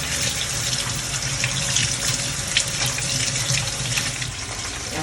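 Water pours steadily from a kitchen tap as ingredients for Jamaican peanut porridge are rinsed, a close, continuous splashing rush that lasts the whole clip with no talk over it.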